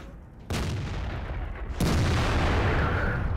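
An Object 268 tank gun firing in World of Tanks, heard as two heavy booming shots about a second apart, each followed by sustained rumbling battle noise, loud and close, with no talking.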